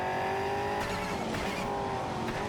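A turbocharged-sounding V8 car engine in the Cyberpunk 2077 video game revs loudly and steadily, with a brief squeal of tires partway through, filling the scene with no talking.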